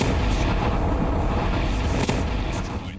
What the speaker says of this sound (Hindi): बम पहले इमारत की छत पर गिरता है और फिर बिल्डिंग के अंदर बड़ा धमाका होता है।